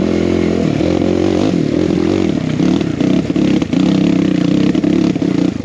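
Dirt bike fitted with a big bore kit riding a trail, its engine loud and close throughout with steady revving, throttle surges and clattering from the rough ground.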